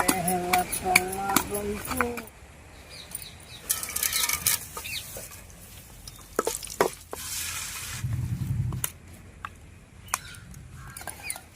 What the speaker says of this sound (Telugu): ఈ గోంగూరన నీళ్ళంతా ఎగిరేదాకా మగ్గ పెట్టుకోవాలి